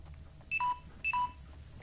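A phone's low battery warning, two short electronic beeps about half a second apart, each a pair of tones, quiet and clear over a faint background hum.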